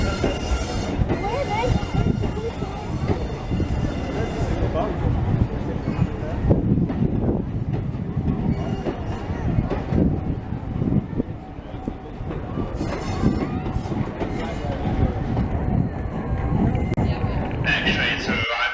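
A steam train at a platform on the East Lancashire Railway, rumbling and clanking close by with wheel squeal and rolling noise, while people talk and a platform announcement plays.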